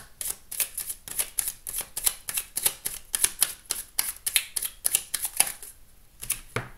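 Playing cards cut and riffled by hand during a French-language reading, a rapid run of crisp card snaps and flutters, close and fairly loud, with a brief pause near the end before one last slap.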